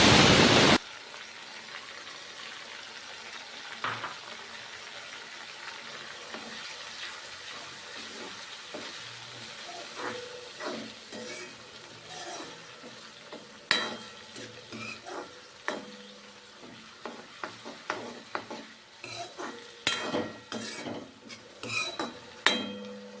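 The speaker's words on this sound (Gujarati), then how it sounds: "આપણી ડુંગળી ગોલ્ડન બ્રાઉન થઈ ગઈ છે તો એમાં ટમેટા એડ કરીશું" Tomatoes tossed into a pan of golden brown onions, followed by a soft sizzle and repeated clinks and scrapes of a spoon stirring against the pan, growing busier toward the end.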